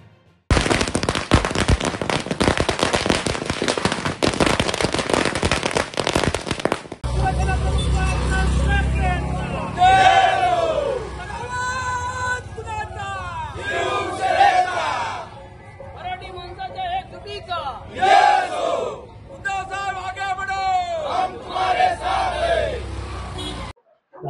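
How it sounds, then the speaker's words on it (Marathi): Party workers celebrating in Kudal set off a dense burst of firecrackers lasting several seconds, followed by a crowd cheering and shouting loudly with voices rising and falling. "कार्यकर्त्यांनी फटाके लावून जल्लोष केला"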